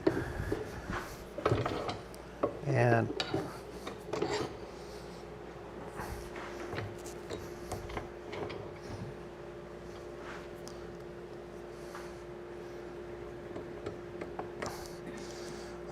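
A spur bit being driven and seated into a wooden blank on a lathe for a handmade ice cream scoop, a few knocks and grinding scrapes early on, then a quieter steady hum with scattered faint ticks.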